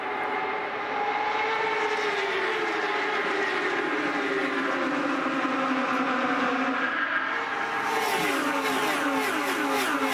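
IndyCar race cars roar around the oval at Kansas on a 2010 green-flag restart, engines droning loud and continuous with shifting pitch as the field passes, intensifying near the end.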